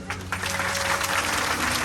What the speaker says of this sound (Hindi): बजाओ जोर से तालियां।